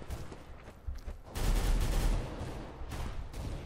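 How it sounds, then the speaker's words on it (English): Shotgun blasts in the Counter-Strike Global Offensive video game, a loud burst of gunfire with a rolling boom over about a second, followed by fainter shots and game noise. "See, I did that right with the shotgun."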